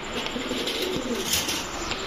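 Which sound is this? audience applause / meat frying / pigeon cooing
pigeon cooing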